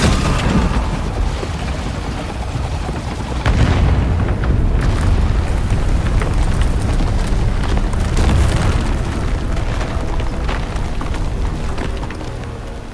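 A place of great power is blown up in the Avowed video game, a sustained rumbling explosion with layered booms and crackling debris, loud and continuous, swelling again partway through.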